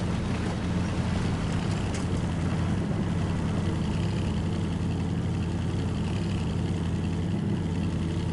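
Damaged truck engine in the SnowRunner video game runs steadily at a low idle-like drone for the whole stretch, a constant loud rumble with no voices over it.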